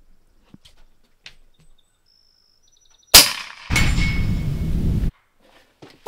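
An FX Panthera air rifle fires at a target 300 yards away with one sharp crack, then about a second and a half of loud rushing noise. Faint small ticks come before and after.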